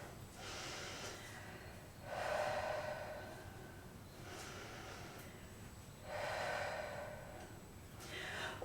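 Slow, deep breaths during a slow-flow vinyasa yoga pose: two long, audible exhales a few seconds apart, close and quiet, with soft breathing between them and no talk.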